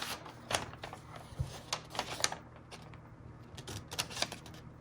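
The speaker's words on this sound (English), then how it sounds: "And so this time we're going to cut this edge and this edge." Scissors snipping along the folded edges of tracing paper for a glassine-style bag, a run of close, crisp cuts and paper rustles repeating irregularly over a low background hum.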